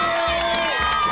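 A village audience cheers and claps in a short, loud burst at an outdoor prize-giving, with shouts mixed into the rising applause.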